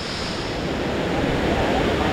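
A rain-swollen stream rushes forcefully past in heavy rain, a loud, continuous roar of churning water close to the microphone.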